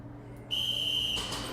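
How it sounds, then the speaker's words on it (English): A referee's whistle starts round 2 of an airsoft speed QB regional championship match: a single loud, sustained, steady blast about a second long, alone over faint background noise. "The whistle is blown."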